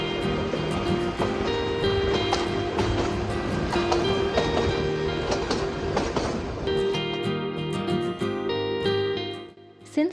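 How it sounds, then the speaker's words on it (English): The Ooty toy train, a mountain railway, rolls steadily along its tracks with a continuous rumble, repeated rail clicks and a tonal hum from close by, fading slightly at the end. "The kids can't contain their excitement as we chug along the tracks."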